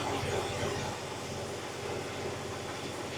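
A Jeep XJ engine idles steadily after an exhaust manifold gasket repair, giving a continuous, even, close-up drone with a low rumble and no talking.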